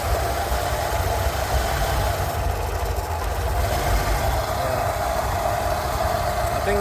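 A Rolls-Royce Silver Shadow engine idles steadily after carburettor tuning, a loud continuous low rumble with an even mechanical throb and no speech.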